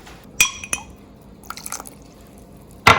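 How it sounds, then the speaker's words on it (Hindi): Cornstarch is stirred into water in a small bowl or glass for a thickening slurry, giving a few sharp clinks and light liquid swishes, brief and close, separated by near silence. "मैंने 2 टेबलस्पून कॉर्न स्टार्च लिया है और उसमें 3 टेबलस्पून पानी के डाल के घोल रही हूँ।"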